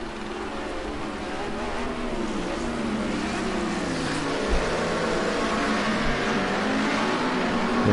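A Cosworth-powered Group A touring car races at Imola in a racing game, its engine roaring as it accelerates. The engine note climbs continuously over the whole stretch, joined by other cars around it.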